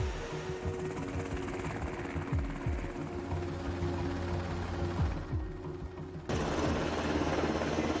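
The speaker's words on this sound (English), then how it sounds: "There are dozens of helicopters in the Marine Corps presidential fleet." A Marine Corps presidential helicopter with a white top and army green body, its rotor chop and turbine whine steady and fairly loud throughout, swelling briefly near the end.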